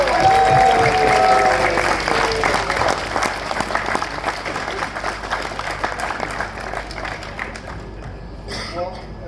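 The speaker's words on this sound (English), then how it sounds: "Big round of applause." Loud audience applause at a Geoff George memorial event, dense clapping from a large crowd that stays strong for most of the stretch and then thins near the end, with faint voices mixed in.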